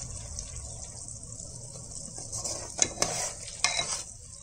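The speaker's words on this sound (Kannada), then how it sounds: "ಇವಾಗ ಇದು ನೀಟಾಗಿ ಕುದೀತಾ ಇದೆ" Water for egg biryani bubbles in an open pressure cooker, a soft steady simmer with a high hiss, then a few sharp clinks and splashes of stirring near the end, with no talking.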